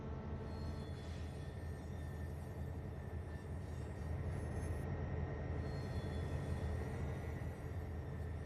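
A locomotive throttling up in the Trainz A New Era railroad game gives a steady, loud, low rumble with rail noise. It holds evenly throughout with no voices.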